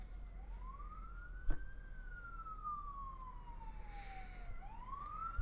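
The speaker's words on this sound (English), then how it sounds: "There's gonna be sirens." An emergency vehicle siren wails outside, faint and distant, sweeping slowly up and down in long smooth glides that carry steadily through the whole stretch over a low indoor hum.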